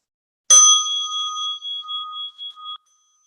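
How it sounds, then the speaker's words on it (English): Single strike of a mindfulness meditation bell, a bright clear tone that rings out alone in silence and decays steadily over about two seconds. "As you listen to the bell"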